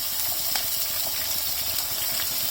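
Ground onion paste frying in about three tablespoons of oil for a Punjabi rajma masala gives off a steady, loud sizzling hiss with faint bubbling pops throughout.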